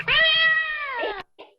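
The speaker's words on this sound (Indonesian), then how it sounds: "Suara apa itu? Kucingnya sedang pengen bermain, nak." A young kitten gives a single drawn-out, high meow, close and clear, followed by a faint short squeak. No voices or other noise compete.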